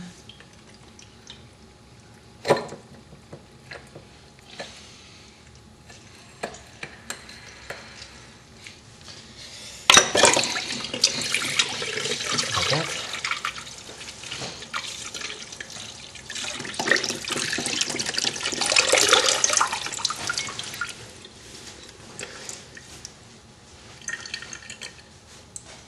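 Liquid poured over ice into a tall glass, with a steady watery pour and splashing building mid-clip, a sharp clink near the start, and quieter handling noises around it.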